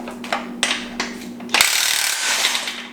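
DeWalt impact wrench rated at 1,400 foot-pounds of torque, used on a Mustang LS swap build, gives a few short rattling hammer bursts and then one louder sustained buzzing run near the end, all close and without talk.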